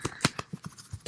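Tarot cards shuffled by hand in a series of soft, irregular papery riffles and slaps, close and quiet, with no talk.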